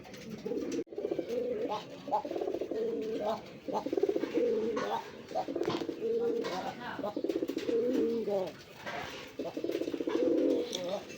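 Pigeons of an old local Bengali breed coo in repeated rolling phrases, loud and close, with a few short pauses between bursts and faint background noise.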